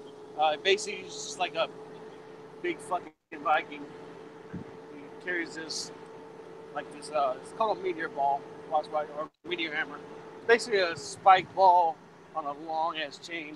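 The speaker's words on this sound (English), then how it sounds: "And sorry for the background noise. I'm driving a truck." A steady low engine drone and road rumble fill a moving truck cab, running beneath nearly continuous close talking from a man.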